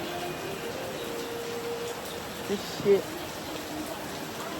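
Steady rain falls outdoors as a soft, even hiss, with a person muttering briefly over it and a couple of small knocks near the end.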